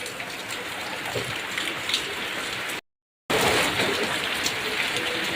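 Light drizzle falling outdoors in a village, a steady soft hiss of rain with scattered drop patter, briefly cut to silence midway before resuming.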